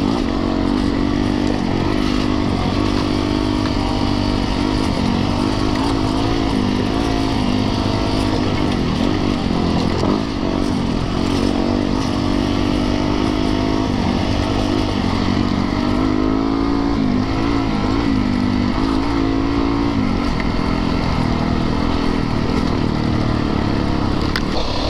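Dirt bikes, a Yamaha YZ450FX and a Beta 350RR, ride dual sport single track in Bald Eagle, Pennsylvania, their engines droning loud and steady throughout with constant revving and throttle changes.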